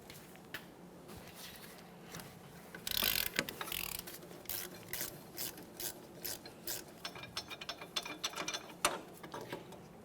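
A ratchet loosens a rear wheel bearing bolt on a 2010-2013 Kia Forte Koup, giving rapid, close clicking bursts with rubbing and metal handling between them, no talking.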